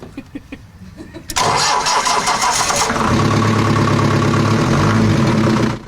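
A car engine cranks with a few sputtering turns, then catches and roars into a loud, steady idle close by.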